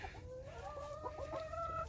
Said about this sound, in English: This chicken just likes to talk.